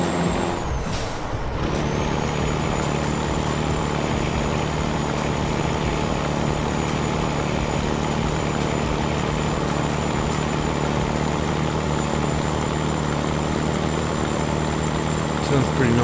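Steady, loud idle of a Freightliner FLD truck engine in American Truck Simulator, opening with a short sharp hiss of air before a continuous low rumble with a faint high whine runs on unchanged.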